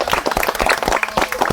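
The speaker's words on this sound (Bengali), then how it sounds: "তো দর্শক বন্ধু তার জন্য হাততালি" A crowd at a clay-pot food prize game applauds briefly, with quick, uneven clapping from many hands, close and fairly loud.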